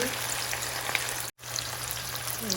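Chopped onion fries in hot oil for a dried loitta fish curry, a steady close crackling sizzle with a momentary dropout midway and no talking.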